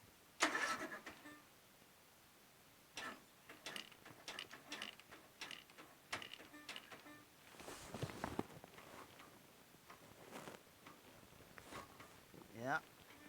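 A Troy-Bilt Super Bronco 17.5 HP lawn tractor with a 42-inch deck is hard to start: its engine cranks in repeated bursts of mechanical grinding and clicking, loud and close, with pauses between attempts and no sign of it catching.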